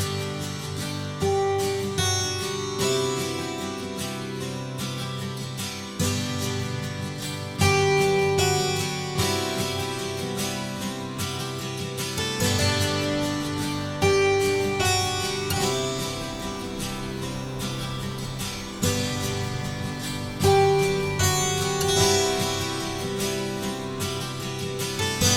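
Solo twelve-string guitar picking a shimmering, ringing melodic line, played steadily and alone with no voices.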